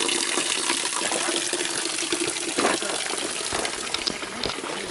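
A waterfall in a Costa Rican rainforest mountain reserve roars in a constant, dense rush of falling water, close and loud throughout with no pauses.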